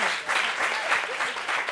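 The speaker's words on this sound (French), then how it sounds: "Applaudissements pour Leïla, s'il vous plaît." Audience applause in a TV studio during a French talk show, a dense, even patter of many hands clapping close to the microphone for a couple of seconds, with no clear talking over it.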